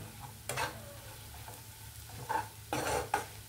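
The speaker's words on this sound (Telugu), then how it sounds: "ఒక్క 2 నిమిషాలు ఈ కారం పచ్చితనం పోయేంత వరకు ఒక్క 2 నిమిషాలు మగ్గితే చాలండి." Ivy gourd curry with cumin and chili powder cooking in a pan, heard as soft intermittent stirring scrapes and a low sizzle, with a few louder bursts of spoon against the pan near the end.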